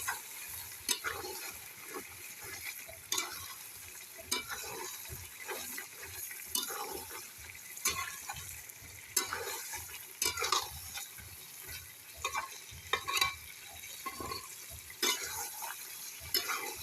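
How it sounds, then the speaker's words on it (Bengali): Chicken pieces stirred and sautéed in a pan for fried rice, a steady sizzle with repeated scraping spoon strokes against the pan, close and continuous. "পুরো ঢাকনা উঠে নাড়ি ছেড়ে আমি আর ঢাকা দেবো না, এইভাবেই কষাইয়ে নেব।"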